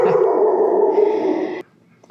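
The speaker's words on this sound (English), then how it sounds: "So excuse when the dog barks." A dog gives a sustained bark-like vocal sound, loud and close, at an indoor home setting; it runs steadily for about a second and a half, then cuts off into near silence.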